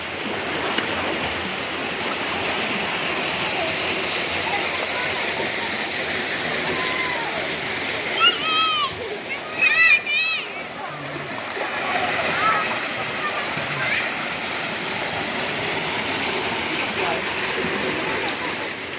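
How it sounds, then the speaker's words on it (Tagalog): A small, cold waterfall at a local swimming spot pours and splashes in a steady, close rush for the whole stretch, while people talk briefly over it. "Maliit na falls. Ang lamig ng tubig."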